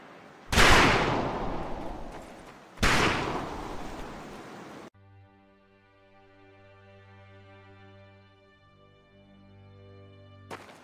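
A pair of loud, booming gunshots with long ringing tails sounds at the firing range in Medal of Honor: Pacific Assault, followed by a sustained musical drone with no further shots.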